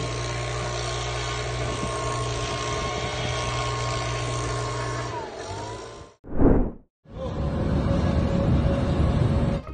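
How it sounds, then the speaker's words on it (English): A loud, steady engine roar of a leaf blower clearing snow runs for several seconds, drops briefly with a short burst, then resumes at full strength. "When you want to remove snow but only have a leaf blower, try this."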